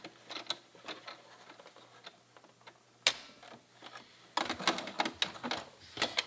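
A sewing machine runs a zigzag stitch while a pleated woven blouse is sewn. Quiet, fast rhythmic ticking comes in short runs with pauses, plus a sharp clack partway through and a busier burst of stitching near the end.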